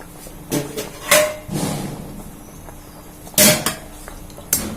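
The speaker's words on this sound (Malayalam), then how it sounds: "ഇനി നമുക്ക് മൂടി വെക്കാം." A lid goes onto a pot of fish curry, giving a few sharp metallic clanks and scrapes spread across several seconds, close and separated by quiet gaps.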